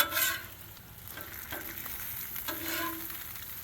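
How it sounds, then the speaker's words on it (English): Bacon cooking on a Blackstone griddle, crackling and sizzling steadily up close with a few soft spatula scrapes, no talking. "come on, bacon. Get yourself cooking."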